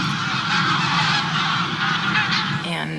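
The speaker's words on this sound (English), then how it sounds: "a flock of geese?" A flock of geese honks loudly and continuously at close range, many overlapping calls forming a dense, raucous chorus outside a glamping tent in the early morning.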